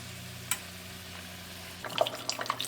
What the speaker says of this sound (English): And on this little fry pan here, I have some oil heating. I'm gonna fry this egg.